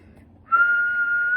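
A person whistles through focused lips: a single clear, steady tone held for about a second after a brief quiet start, close and alone.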